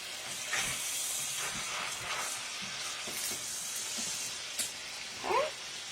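Flipped chicken pieces fry in a pan with a steady hissing sizzle and occasional pops and crackles, moderately close, with no talking over it.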